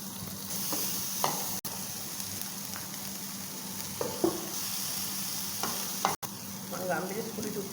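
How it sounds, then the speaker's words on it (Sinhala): Vegetables fry in a splash of olive oil in a hostel kitchen, a steady soft sizzle running throughout with a few brief stirring scrapes and clicks, close and moderately quiet. "මම මේ විදිහට ඔලිව් ඔයිල් පොඩ්ඩක් එකතු කරගෙන මේ ටික චුට්ටක් ෆ්‍රයි කරගන්නවා"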